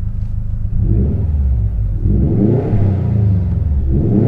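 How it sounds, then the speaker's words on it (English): A 2018 Subaru WRX STI with an aftermarket exhaust revs up loudly with a deep, throaty exhaust rumble, rising and falling in pitch over a few seconds. "here is what that aftermarket exhaust sounds like"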